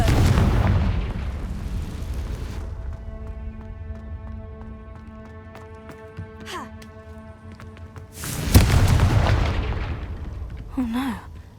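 Confringo explosion spell blasts in Hogwarts Legacy, a loud boom with crackling rumble at the start and another burst near the end, separated by quiet tonal game ambience.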